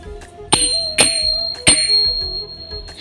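A bell is rung during evening worship of Gopal at a home shrine: four sharp, ringing strikes, roughly half a second to a second apart, each leaving a bright sustained tone over a soft background hum.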